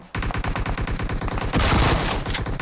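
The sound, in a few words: gunfire in video game PUBG Mobile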